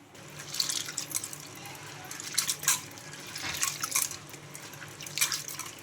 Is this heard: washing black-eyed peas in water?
yes